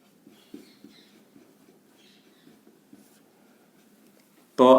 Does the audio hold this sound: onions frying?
no